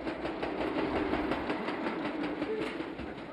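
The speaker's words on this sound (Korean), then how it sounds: "열차에 동력을 공급해주는 전차선 설치 작업 전동차가 들어오고 있다." An electric overhead-line maintenance railcar pulls into Yeosu station, its engine droning in a steady, loud, broadband rumble that carries unbroken throughout, with no voices.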